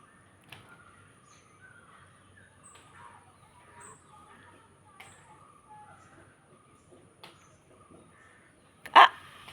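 Crow caws, several short calls spaced across an outdoor scene at moderate distance, with a louder, sharper burst near the end; a peacock is nearby.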